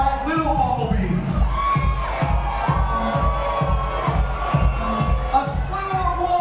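A crowd at a Las Vegas costume contest cheers and shouts steadily, with rhythmic clapping or stomping beating in a regular pulse beneath the whoops.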